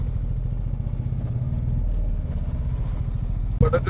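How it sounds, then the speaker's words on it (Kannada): A BS4 auto rickshaw with a broken silencer pipe idles up close, giving a steady low rattling engine throb with a clattering knock near the end. "ಸೈಲೆನ್ಸರ್ ಪೈಪ್ ಹೋಗೈತಿ, ಅದಕ್ಕೆ ಸೌಂಡ್ ಸ್ವಲ್ಪ ಚೇಂಜ್ ಅನ್ಸಾಗ್ತದೆ ನಿಮ್ಗೆ"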